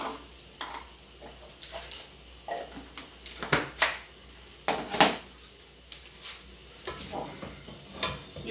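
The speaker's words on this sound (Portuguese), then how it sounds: "E vamos fritar aqui." Garlic frying in a home kitchen pan, a soft sizzle under scattered clinks of pots and utensils, with people talking intermittently.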